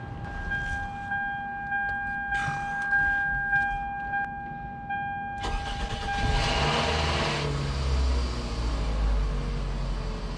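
A Toyota Camry engine, on ramps after an oil change, starts with a sudden broadband burst and then settles into a steady, close, fairly loud idle rumble, with no talking.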